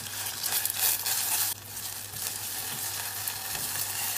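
Garlic and tomato paste sizzle and fry in a pan, a steady close hiss with a few stirring scrapes, and no voices.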